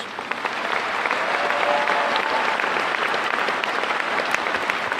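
Audience applause fills a high school commencement hall, a dense, steady wash of many hands clapping at full strength throughout.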